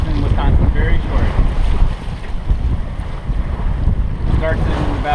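A sailboat cutting through the water on Lake Michigan in Wisconsin, with steady loud wind buffeting the microphone and waves washing against the hull throughout.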